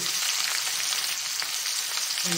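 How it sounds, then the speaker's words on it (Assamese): Sliced onions and whole cumin seeds fry in generous oil, producing a dense, steady crackling sizzle heard up close and alone. "এয়া তাতে কেইটামান গোটা জিৰা দিলোঁ পিঁয়াজ দিলোঁ"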